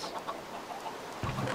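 A chicken in the video game RealmsCraft gives a few soft clucks, faint at first and then a clearer burst toward the end, with no talking over it.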